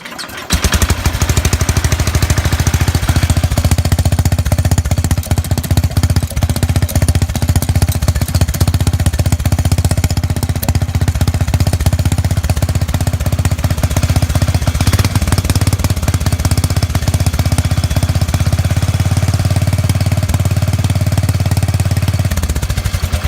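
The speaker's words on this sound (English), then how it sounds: "And give it some choke. Not too much. And fuel's on. Here's the 69 SS12." A 1969 SS12 motorcycle engine, started with some choke, catches right away and runs continuously for over twenty seconds with a loud, close, rough and rapid single-cylinder-style clatter, steady throughout before cutting out at the end.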